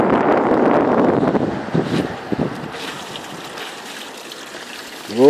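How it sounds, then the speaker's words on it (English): Water flows in a stream outdoors in wet, windy weather, a loud rushing wash that fades after a couple of seconds into quieter trickling, overlaid with wind noise and a brief tonal sound at the end. "Water."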